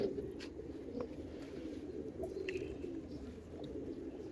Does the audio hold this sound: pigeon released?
yes